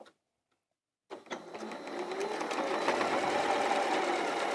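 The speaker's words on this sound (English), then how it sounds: "I'm then going to do a 1/4 inch seam down this edge here." After a second of silence, a sewing machine starts up nearby and runs in a steady, fast mechanical whir while stitching a quarter-inch seam on quilt fabric.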